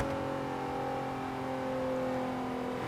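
Infiniti Q50 Eau Rouge engine and exhaust holding a steady rev, a smooth, even drone without crackle or rumble, heard up close and alone.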